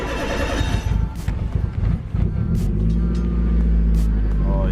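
A cold Nissan 180SX engine idles up close while warming, a deep steady rumble with a rough, uneven start that settles into a smooth drone.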